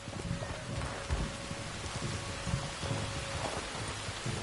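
Rain and thunder in the Red Dead Redemption 2 video game: a soft continuous patter of rain with low distant rumbles rolling underneath, quiet and steady throughout.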